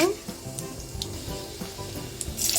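Mustard seeds, cumin, urad dal and asafoetida sizzling in about one and a half spoons of hot oil for a tempering, a close crackling sizzle with rapid popping spatters.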